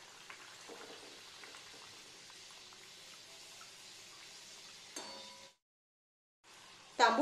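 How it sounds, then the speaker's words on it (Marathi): A stuffed pea karanji dropped into hot oil on a low flame, giving a soft, steady bubbling fry that swells briefly, cuts out, then returns louder at the end. "तांबूस रंगावर येईपर्यंत आपण याला तळून घेणार आहोत"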